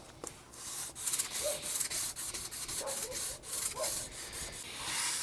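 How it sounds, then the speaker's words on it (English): A sanding block wrapped in worn 220-grit sandpaper rubs back and forth over a wooden guitar neck, each close, rhythmic stroke giving a raspy hiss with faint knocks of the block. "stop sanding with the 220"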